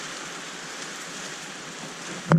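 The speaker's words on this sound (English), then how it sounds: "The storm has hit." Heavy rain from a tropical storm pours steadily in a dense, even hiss for the whole stretch, ending with a brief louder knock or thump at the very end.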